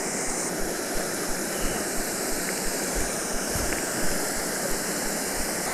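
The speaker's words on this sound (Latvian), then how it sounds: "lai visu šo ūdenskritumu iekļautu kadrā" A waterfall being photographed for a long exposure roars with a steady, dense rush of falling water that stays even and continuous throughout, with no voices.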